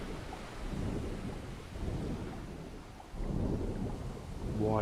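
Thunderstorm at sea in Stranded Deep, with low rolling thunder and rain swelling in waves, fairly faint and without speech, plus a brief rising tone near the end.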